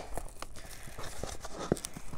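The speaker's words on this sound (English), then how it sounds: "we're just gonna open this package up and talk about them" Hands tear open a paper shipping package holding books, giving soft intermittent ripping and crinkling sounds with one sharper tear, quiet and close.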